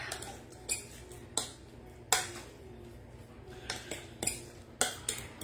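A spoon mixes grated Parmesan into a dish of salmon and skin-on red potatoes, tapping and clinking against the dish in a loose rhythm of sharp, fairly faint knocks about every half second to second.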